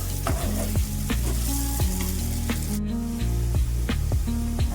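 Spiced potato fry with chilli powder and garam masala being stirred in a pan, a steady loud sizzle with repeated spatula scrapes and clinks against the metal, no talking.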